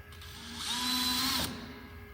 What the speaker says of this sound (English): we're going to put some screws in to hold it.